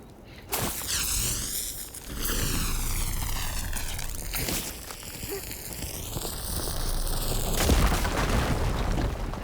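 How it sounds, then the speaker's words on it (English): A fire gleam blows up in the video game Horizon Forbidden West, with loud broadband booms at intervals and sweeping whooshing tones between them. "Should be able to blow up that fire gleam."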